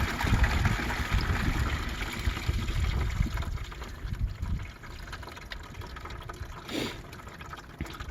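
Coolant pours quickly from a tractor radiator into a funnel, a steady gushing fill of liquid that gradually eases off, close and moderately loud with no talking.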